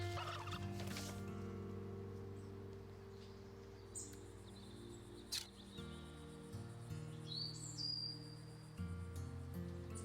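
Turkeys gobble in the video game Wytchwood, a quiet rolling gobble near the start and later sporadic calls over a faint bed of insect chirps and low ambient tones.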